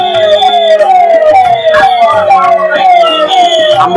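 An ambulance siren wails, cycling steadily up and down, loud and close, repeating its rising-falling sweep throughout with traffic rumble beneath, during the Ratha Yatra festival.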